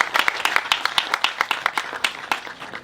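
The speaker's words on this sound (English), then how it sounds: "So big round of applause for them." Applause from the audience at a lacrosse legends ceremony: crisp, fairly close clapping from a small crowd with distinct individual claps, sustained for a few seconds at even intensity.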